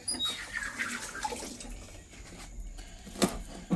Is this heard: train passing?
no